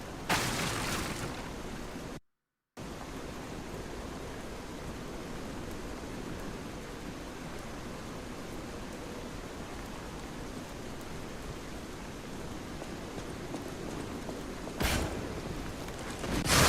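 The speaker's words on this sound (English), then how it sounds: "Oh, it's raining. Hobbler's Bridge, rainy night." A rainy night on Hobbler's Bridge in the video game Lies of P brings a constant, even hiss of falling rain. It is soft and unbroken apart from one brief dropout and a short burst near the end.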